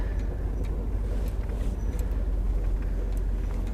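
A car heading onto a highway, heard from inside as a loud, steady low engine and road rumble with constant tyre noise and no talk.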